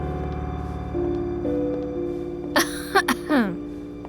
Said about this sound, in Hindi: डोंट वरी, बीमारी की वजह से खांसी नहीं आई मुझे।